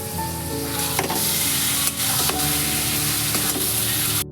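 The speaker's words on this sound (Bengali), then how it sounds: "সেই চিকেন এবার ভালো করে ধুয়ে জল ঝরিয়ে আমি এর মধ্যে দিয়ে দিচ্ছি বা চিকেনটা দিয়ে ভালো করে কষিয়ে নেব" Boneless chicken pieces fry in a spiced masala in a pan, a loud continuous sizzle broken by a few clinks and scrapes of a spoon stirring at close range.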